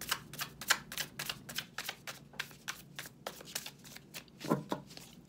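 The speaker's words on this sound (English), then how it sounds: "Make sure I'm holding the cards right." Tarot cards shuffled by hand in a steady run of soft, close riffling flutters and slaps, quiet and alone with no talking.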